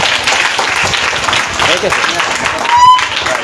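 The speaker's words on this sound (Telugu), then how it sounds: "అంటే కొట్టండి చప్పట్లు" Audience clapping at a school Teachers Day celebration, a steady patter of applause mixed with talking voices, and a short tonal squeal near the end.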